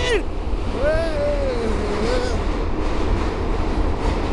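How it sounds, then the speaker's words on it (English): Train ride: a steady rumbling rail noise and rolling hum continue throughout, with a voice speaking or singing over the start. "I'm on the train."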